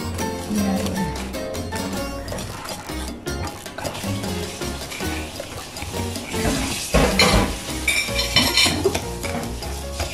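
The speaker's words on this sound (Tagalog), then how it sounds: "Mix natin, ihalo natin dito sa flour." Banana is stirred into flour in a bowl for banana cake batter, with continuous close scraping and mixing under a layer of background music.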